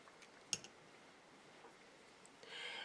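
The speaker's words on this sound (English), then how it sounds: "Now I'm just going to take my scissors and cut down the two ends" Scissors snipping two thread ends at a beadwork pendant necklace: one sharp, close click with a faint second snip right after, then near-silence before a soft hiss at the end.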